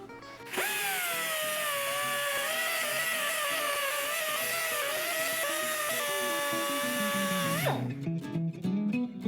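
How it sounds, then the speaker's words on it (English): A die grinder fitted with a small sanding disc whines steadily at close range for several seconds while working on an exhaust, its pitch wavering slightly under load, then cuts off and spins down. "I'm just using the die grinder with a little sanding disc on it"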